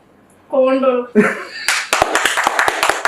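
A few people clap in quick rhythmic bursts near the microphone, following a brief voiced sound and a laugh-like vocal, the sharp claps continuing steadily for about a second and a half.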